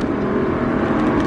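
Engine of a car on the Folembray driving-course track, back on the throttle, a brief loud and close steady drone with no voices.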